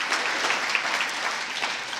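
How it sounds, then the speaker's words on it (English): Audience applause fills a talk at an Al-Anon meeting, a dense steady patter of many hands clapping throughout. "Applause, okay."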